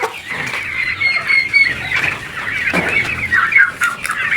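Goliath chickens, about thirty hens, cluck and cackle continuously in a henhouse, close and fairly loud, with overlapping calls and a few sharper squawks.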